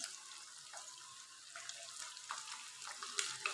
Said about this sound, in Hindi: तो कोफ्ते हमने तेज़ आंच पे फ्राई करने हैं